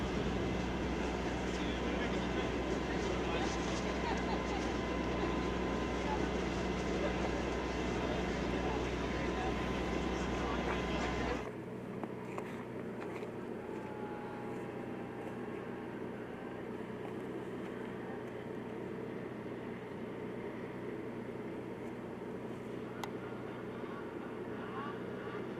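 Race vehicle engines at a pro class finish, a loud broadband drone for about eleven seconds that then cuts to a quieter steady rumble, with an announcer talking over it.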